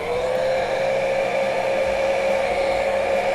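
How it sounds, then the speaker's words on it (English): A handheld hair dryer blowing hot air onto freshly varnished painted paper tags, a steady close whine with an even rushing airflow and no break for the whole stretch. "my hairdryer"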